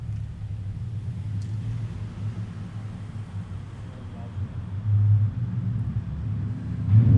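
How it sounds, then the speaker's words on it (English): Cars passing near a car park give a continuous low rumble with swells as vehicles go by, a louder pass near the end, and a voice heard briefly over the traffic. "Noisy cars."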